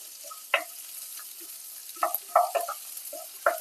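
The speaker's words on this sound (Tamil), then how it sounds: "நல்லா ஒரு கோல்டன் கலர் வர அளவுக்கு நம்ம வதக்கி எடுத்துக்கோங்க" Thinly sliced onions are stirred in a pan while sautéing, giving a quiet low sizzle under several sharp scraping and clinking strokes of a spoon against the pan, close by, with no voices.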